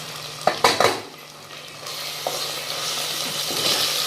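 Tomatoes frying in a pan for potato pulao: a few sharp metal clanks of a utensil against the pan, then a broad, rising sizzle that grows louder and steadier, with no talking.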